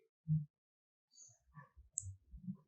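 A computer mouse clicks during a software installation, giving a few quiet, close taps and small clicks with pauses between them, set against near silence.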